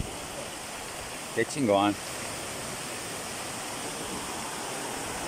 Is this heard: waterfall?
yes